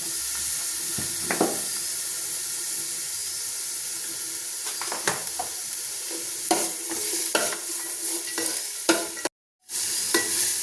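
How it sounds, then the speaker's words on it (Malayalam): Carrots and onions sizzle and crackle steadily in ghee in a hot pan, with a few scraping stirs and a brief silent gap near the end. "ക്യാരറ്റ്, സവാള ഇതെല്ലാം കൂടി നമുക്ക് ചെറുതായിട്ടൊന്ന് മൂപ്പിച്ചെടുക്കാം"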